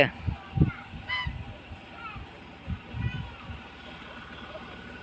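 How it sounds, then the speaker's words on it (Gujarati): Several honking quacks from ducks at a cow shelter sound nearby in short irregular bursts, with a voice talking in between. "આમ જોવો તમે બતક છે"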